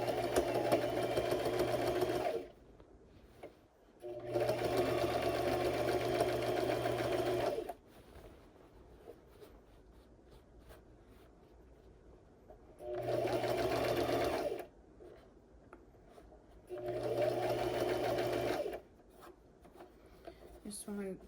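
A sewing machine stitches a side seam on a bag strap in two long bursts, then stops and runs again for two more bursts, loud and steady, with quiet pauses in between.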